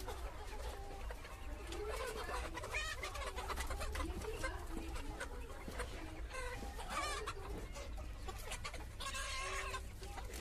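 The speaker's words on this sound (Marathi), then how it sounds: "खूपच छान असं हे कावेरीचं पक्षी आहे आणि जखमी कोंबड्यांना काही त्रास देत आहे वाटतं" Kaveri breed chickens cluck and chatter continuously in a village yard, a busy flock close by with pigeons and other birds calling among them over steady background noise.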